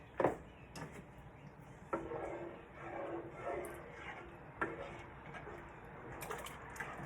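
Seasoning being stirred into a pot of chili, soft wet scraping and sloshing strokes in an irregular rhythm, faint and close, with no talk.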